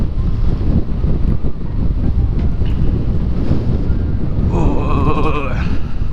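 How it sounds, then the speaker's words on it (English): Heavy wind roars steadily across the microphone while riding an electric motorcycle outdoors in cold weather, a constant loud buffeting rush with a faint whine rising near the end. "Ooh, windy and cold."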